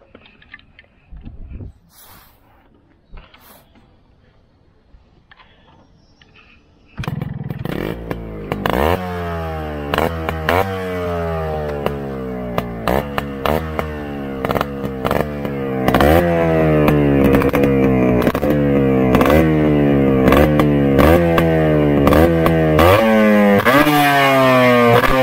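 Four-speed Yamaha RX-135 two-stroke motorcycle starting up after a quiet moment, then idling and revving repeatedly with rising and falling engine pitch. It is loud and close, and the revs grow stronger toward the end.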